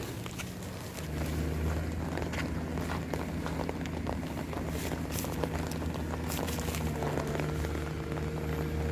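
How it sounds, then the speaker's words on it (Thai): Heavy rain pours outdoors during a fishing trip, a dense steady hiss with wind buffeting the microphone and a low hum from a boat or motor underneath. "ฝนเริ่มตกหนักเยอะแล้วนะครับ"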